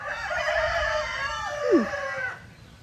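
A rooster crows loudly and close by, with a long drawn-out call that falls at the end. Softer clucking from other chickens and farmyard ambience continue in the background.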